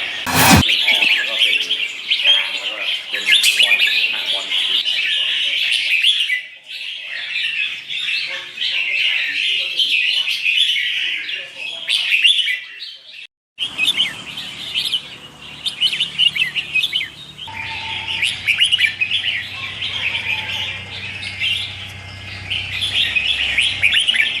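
Red-whiskered bulbuls sing at a fancy bird farm, their bright chirps and warbled phrases coming close and loud in dense, overlapping bursts for the whole stretch, broken by one brief gap, with faint low hum in the later part.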